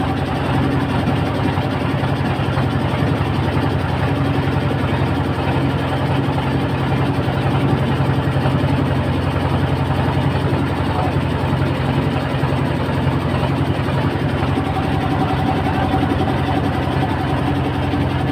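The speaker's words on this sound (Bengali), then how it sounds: "একটি নৌকা চলে যাচ্ছে" A motor boat engine on a river estuary sends a steady, loud low drone through the whole stretch, with no clear rise or fall of a passing boat.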